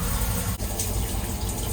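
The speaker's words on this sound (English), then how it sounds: "We have water." Steady rush of running water from a shower spray in an Amtrak Auto Train bedroom suite, close and continuous with a brief dip partway through.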